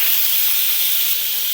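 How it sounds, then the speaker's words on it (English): Steam hisses steadily from an Instant Pot pressure cooker as the pressure is let off after 25 minutes of cooking beets, a continuous bright rush with no pauses. "And so we're going to let the steam off."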